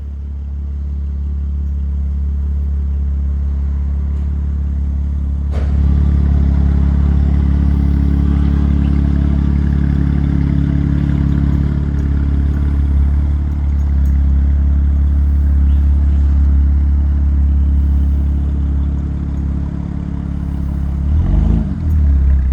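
A 2025 BMW M4 Competition with an upgraded Valvetronic aftermarket exhaust, a deep, throaty rumble continuing as the car drives, growing louder when it opens up, with a brief rising rev near the end.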